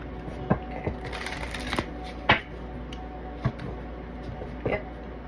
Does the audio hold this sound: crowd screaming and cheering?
no